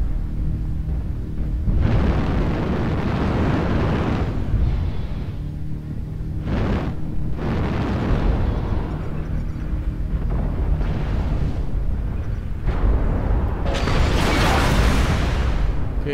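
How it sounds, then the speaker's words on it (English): Artillery strike explosions in the mech combat game MechWarrior Online: a series of heavy, booming blasts with rushing, roaring tails, loud and layered over continuous rumbling battle noise, with no talking. "Artillery strike online."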